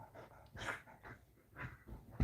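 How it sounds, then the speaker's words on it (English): An old arthritic dog breathes heavily with soft whimpers in short uneven bursts, close and quiet in a still room. "I'm babysitting an old arthritic dog."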